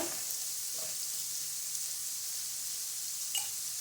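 Vegetables frying lightly in a pan for a spicy pink sauce macaroni dish, a steady close hiss of sizzling oil with a few soft stirring clicks.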